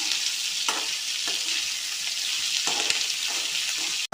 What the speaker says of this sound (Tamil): தக்காளி புதினா மல்லி ஓரளவுக்கு வதங்கின பிறகு